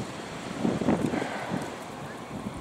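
A chilly wind blows outdoors in winter, a steady broadband rush with a few soft gusts buffeting the microphone, moderately loud and continuous with no talking.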